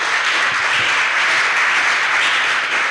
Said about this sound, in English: And with a round of applause,